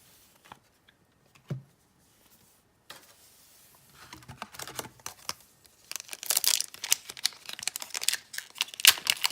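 Foil wrappers on 1998 Topps Gold Label baseball card packs being torn and crinkled open, sparse rustles at first building into dense, close crackling and ripping toward the end.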